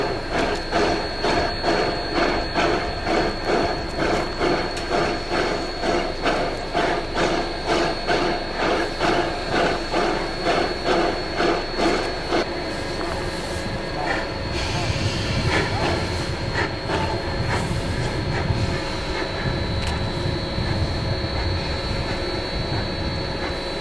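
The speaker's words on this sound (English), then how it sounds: "the 487 and OY separate from the rest of the train to cross Lobato Trestle by themselves" A locomotive with a rotary snowplow rumbles along with a steady, rhythmic clatter of wheels over joints, then shifts to a rougher, heavier rumble partway through as it crosses a trestle bridge, with no talking.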